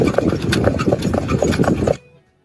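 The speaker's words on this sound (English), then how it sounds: "The pace is a two-beat gait in which both right legs move together and both left legs move together." Standardbred horse pacing in a two-beat lateral gait, hooves striking in a quick steady rhythm, close and fairly loud, stopping abruptly near the end.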